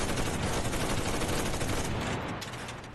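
Dense, sustained gunfire in Enlisted, a World War II shooter, continuous rapid bursts from a half-track's machine gun at loud, steady level that eases slightly at the end.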